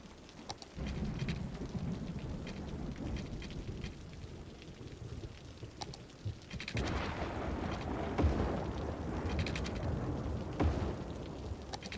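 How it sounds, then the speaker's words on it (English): Rain pours steadily in a Cities: Skylines thunderstorm, with low rolling thunder building throughout and a few sharp crackling lightning strikes; no one speaks. "That lightning is kind of the lightning that you get in the horror movies."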